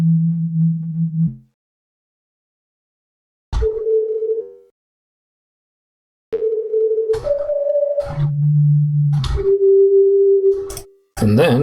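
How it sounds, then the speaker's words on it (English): A ZynAddSubFX software synthesizer, with feedback raised for a metallic tone, plays a series of pure sustained notes at shifting pitches, separated by silences and sharp clicky onsets, with no voices present. "what we want is for that metallic sound to come in"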